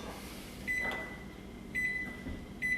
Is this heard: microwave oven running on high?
yes